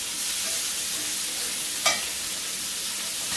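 A rack of lamb sears in a hot pan with a constant, close hiss of sizzling fat, broken once by a brief sharp crackle, and no talking.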